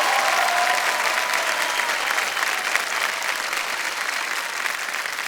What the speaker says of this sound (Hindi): तालियां बजती रहनी चाहिए श्रद्धा जी के लिए।